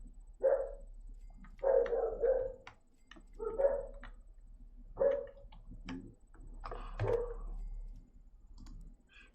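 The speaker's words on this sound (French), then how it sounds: "Je sais pas ce qu'ils ont les chiens encore aujourd'hui, mais ils sont extrêmement chiants." Dogs barking in the Mall Simulator video game, a series of short sharp barks in bursts spread over several seconds, fairly close and alone over a low steady hum.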